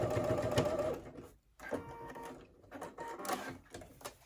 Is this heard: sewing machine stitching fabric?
yes